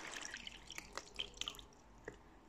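Water poured into a waterproof seed-growing container from a vegetable seed kit, heard as close, uneven splashing and dripping with scattered trickles over about two and a half seconds, no voices.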